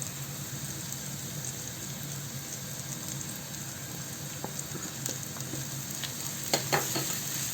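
Ground turmeric, chili, cumin and coriander with ginger paste and nut paste fry in oil for a fish curry, giving a steady close sizzle with a few sharper crackles and spatters near the end, no talking.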